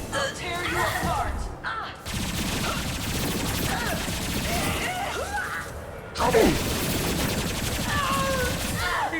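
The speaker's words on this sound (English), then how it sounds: "Stop shooting the drug canisters." Rapid gunfire from a Mass Effect 2 firefight, with bursts of automatic shots and impacts running almost continuously, along with game sound effects and spoken lines over the top.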